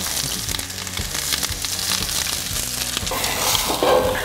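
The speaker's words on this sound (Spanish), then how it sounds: "Para caramelizar usaremos aceite de cocina. Agregamos la cebolla y nuestros ajos." Onion and garlic frying in cooking oil in a hot pan on the stove, a steady close sizzle and crackle with occasional spatters running throughout.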